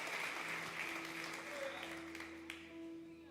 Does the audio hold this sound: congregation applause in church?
yes